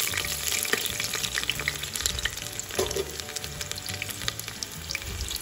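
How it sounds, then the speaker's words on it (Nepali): Onions frying in hot oil in a home kitchen pan while cooking pumpkin daal: a steady, close sizzle and crackle that continues throughout, with a few brief clinks and stirs. "हेर्नुहोस् तेल खालिसकेको छ। प्याज हालिदिनुहोस् फेरि।"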